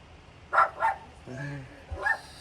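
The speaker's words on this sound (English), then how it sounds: "She has to bark when I'm doing a video." A dog barks twice in quick succession, fairly close, followed by a low grumble and another short bark, over a quiet room background.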